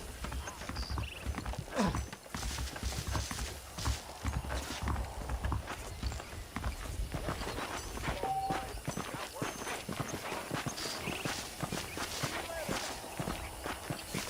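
Horse hooves clip-clop steadily in Red Dead Redemption Remastered on PS5, a continuous walking rhythm heard close for the whole stretch, with faint game sounds underneath.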